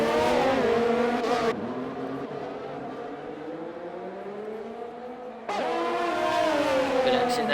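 An engine note from a race car in rFactor 2, on the Abu Dhabi circuit during a league race, drops sharply in a series of rapid downshifts while braking into a turn, then climbs again as it accelerates out.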